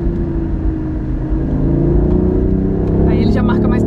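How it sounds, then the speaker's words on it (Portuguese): A BMW i8 accelerates with a steady rising engine drone, close and loud, its low rumble climbing gradually in pitch while someone talks over it. "O ronquinho do motor já marca uma presencinha, assim."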